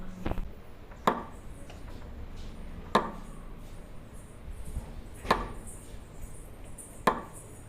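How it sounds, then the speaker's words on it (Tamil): Cartoon-style chopping of dry firewood, a handful of sharp, separate chop strikes spaced a second or two apart over quiet background. "இந்த விறகெல்லாம் வெட்டியாச்சு"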